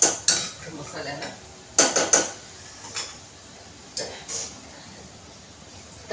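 Peanuts and masala stirred together inside a pressure cooker, a few separate metallic clanks and scrapes of a spoon against the pot, close by, with quiet gaps between strokes.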